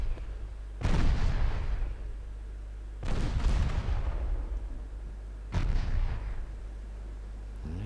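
Naval gunfire from light guns strikes a warship in the video game Ultimate Admiral Dreadnoughts, three heavy booming impacts spaced a couple of seconds apart, each with a long rumbling decay, over a constant low engine drone.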